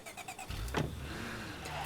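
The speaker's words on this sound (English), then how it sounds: "Now we can park the car." Car engine in State of Decay 2, a brief swelling mechanical whoosh and rumble near the middle, fairly quiet, with no speech.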